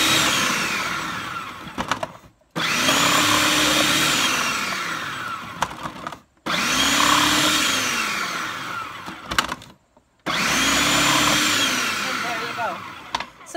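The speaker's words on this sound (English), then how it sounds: "So the food processor that I have has a very large receptacle on it, and I can do a super large zucchini all in one shot" Food processor with a large receptacle shredding zucchini, heard up close as a loud, steady motor whir in several long bursts separated by short pauses, with the pitch sliding as the vegetable feeds through.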